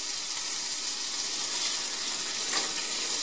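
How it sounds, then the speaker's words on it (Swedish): Steady broadband whooshing hiss of a kitchen extractor fan running close by, constant and even throughout with no voices. "Nu måste jag sätta på fläkten här lite också."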